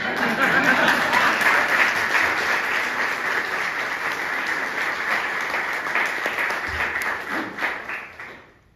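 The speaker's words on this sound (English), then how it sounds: "Oh, keep the applause going." A crowd at a Pride 2024 event keeps up loud, dense applause for a welcomed guest, sustained for several seconds before tapering off quickly at the end.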